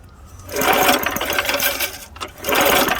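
A 2 1/4 hp Briggs and Stratton small engine, sitting unused for about 37 years, being cranked by pulling its starter cord, giving bursts of rapid mechanical whirring in two or three pulls, close and moderately loud.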